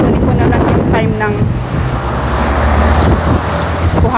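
Wind rumbles and buffets the microphone throughout, loud and continuous, while a person speaks briefly underneath.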